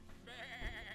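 A single wavering sheep bleat from a fantasy video game creature, loud and close, lasting under a second over faint background game sound.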